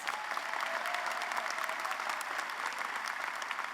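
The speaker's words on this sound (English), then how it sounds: "Let's give these faculty members another round of applause" An audience at a social work commencement ceremony gives faculty members a round of steady, even applause. It is fairly soft and distant and sustained for the whole stretch.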